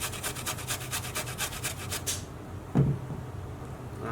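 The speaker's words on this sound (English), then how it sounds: "what I'm going to do next is grate 1 teaspoon of fresh ginger" Fresh ginger is grated by hand for a Japanese chicken katsu sauce, giving a steady run of rhythmic rasping strokes for about two seconds, followed by quiet and a single soft knock.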